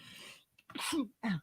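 A single close, sharp human sneeze bursts out after a short breath intake, standing alone in a quiet indoor room.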